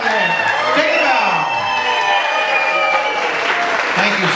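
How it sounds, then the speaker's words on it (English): Audience applause and cheering for dancers at a Dancing with the Stars-style show, a dense, sustained clatter of clapping with scattered whoops, steady and loud throughout, with voices mixed in. "Let's give them a nice big round of applause."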